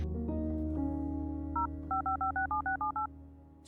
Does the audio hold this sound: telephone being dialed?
yes